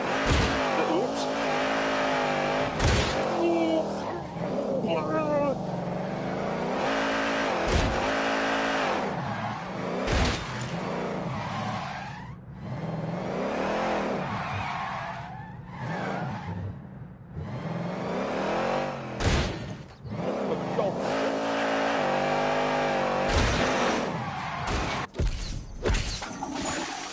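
A car spins its wheels with the engine revving hard and roaring. The loud, sustained noise surges and drops in waves, with tyre squeal and voices mixed in at moments.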